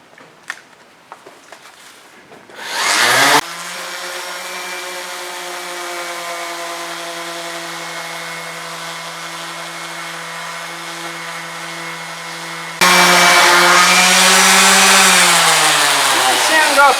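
A power sander runs steadily across a wooden boat plank to take down pencil fairing lines, a loud continuous whine that grows harsher and louder near the end after a few quiet handling noises at the start.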